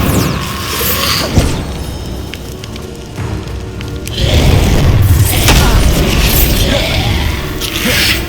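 Bombarda explosion spells are cast in Hogwarts Legacy, each giving a loud booming blast with crackling debris, one sharp burst early and a heavier cluster of impacts in the second half.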